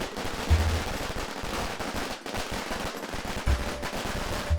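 Firecrackers bursting in a neighbourhood street, a rapid dense crackle of sharp pops going on throughout, with a few heavier bangs standing out, fairly close and loud.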